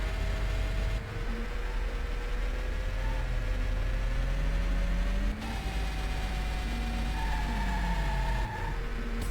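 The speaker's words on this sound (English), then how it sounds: "I love the sound the car makes as you shift the gears." Engine noise from the arcade racing game Ace Driver: a steady car engine hum with pitch sweeping upward and dropping sharply at gear shifts, repeating several times over a constant droning background.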